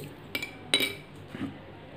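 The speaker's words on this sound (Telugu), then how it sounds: "ఉప్పు మొత్తం కరిగే వరకు కలపండి" A spoon clinks against a glass while stirring salt into water, three light, bright taps spaced apart, close but quiet against a soft room background.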